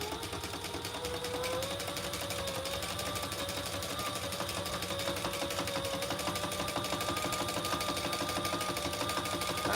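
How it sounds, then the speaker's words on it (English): A sewing machine stitching in the ditch on a quilted laptop bag, running steadily with a fast even needle rhythm and motor hum throughout, close and alone. "I'm gonna just sew in the ditch here just to keep my top together"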